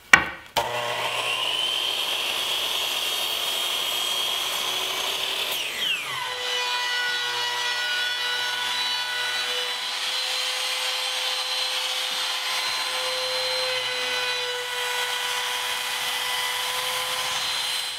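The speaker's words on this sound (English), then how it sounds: "I'll soften up these edges with a small roundover bit in the router" A router fitted with a small roundover bit cuts along the edges of wooden table-top boards, a loud steady high whine after a brief start-up, running close and alone without speech.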